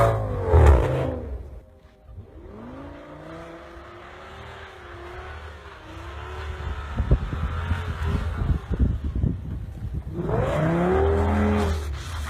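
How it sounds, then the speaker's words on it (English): Audi S6 with a V10 engine driving through about a foot of deep snow, a loud close engine roar that surges at the start, settles into a sustained rumble with crunching and whooshing, then swells again at the end, with no talking. "blasting through a foot of snow, V10 soundtrack behind you"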